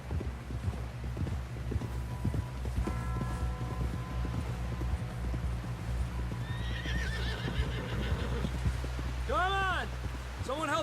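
Hooves clip-clop steadily while a horse whinnies loudly near the end, with talking over rainy background noise, in the video game Red Dead Redemption 2.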